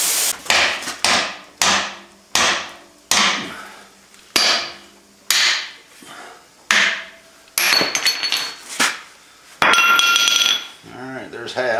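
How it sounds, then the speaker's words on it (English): A hammer strikes a steel chisel about a dozen times at a steady pace to break it in half while removing factory leaf spring pads from a Ford F150. Each blow rings loud and close, and there is some brief talk. "Try to cut my chisel in half so I can get it out."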